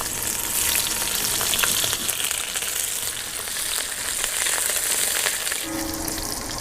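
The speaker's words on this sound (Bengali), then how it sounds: "থেতো করা রসুন দিয়ে দিলাম।" Crushed garlic sizzles and crackles steadily in hot oil in a home kitchen, a continuous loud frying hiss for a crab curry, with a brief clink near the end.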